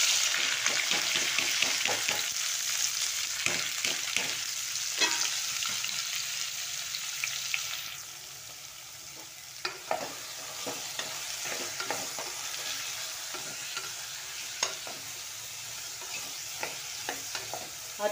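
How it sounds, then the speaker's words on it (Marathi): Bottle gourd frying in oil in a village kitchen gives a steady sizzle broken by repeated scraping and stirring strokes, close and clear, with a brief quieter stretch midway and no speech. "तेलामध्ये चांगला फ्राय होऊन द्यायचा हा दुधी भोपळा"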